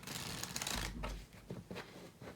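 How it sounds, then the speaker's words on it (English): Two decks of playing cards being shuffled together for a card trick, a dense riffling flutter up close that repeats in short bursts, with no talking over it. "I'm gonna ask them to combine these two decks by shuffling them together, just like this."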